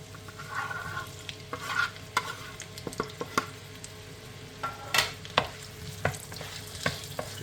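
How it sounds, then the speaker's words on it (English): Onions frying in hot vegetable oil for a chicken curry, a steady close sizzle broken by repeated scraping stir strokes of a utensil against the pan, with no talking. "So folks, I'm now going to go in with those onions."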